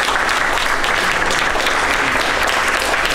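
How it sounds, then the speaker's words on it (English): An audience at a gathering for sailors of the USS Reagan gives sustained, dense applause, loud and continuous with no voices over it. "let's give all our guests again a big applause"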